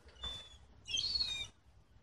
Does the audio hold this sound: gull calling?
yes